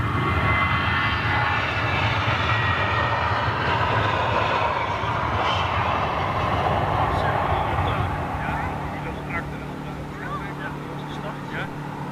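Jet airliner departing Amsterdam Schiphol airport, a loud sustained engine roar that slowly fades as it moves away.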